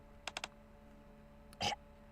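A voice imitating a burp for an Anis character reading: three quick clipped sounds, then a pause and a louder, longer rasping burst, with no other voices.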